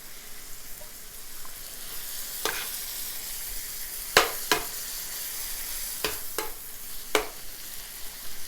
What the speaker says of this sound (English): Flip these onions over. Look at the nice caramelization that just took place with these onions, guys.